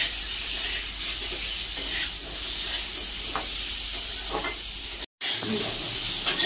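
Eggs seasoned with salt and turmeric fry in hot oil in a pan for egg curry, giving a loud, continuous sizzle and crackle that cuts out briefly near the end before resuming.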